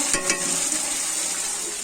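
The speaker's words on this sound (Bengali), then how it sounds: "আলুটা ভাজা হচ্ছে" Potatoes fry in a pot over a fire at an outdoor picnic, a dense loud sizzle with a couple of quick stirring scrapes at the start, and no talking.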